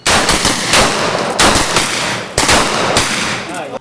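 Rapid bursts of gunfire ring out close and loud at a ceremonial shoot festival, several sharp volleys firing in quick succession with short gaps between them.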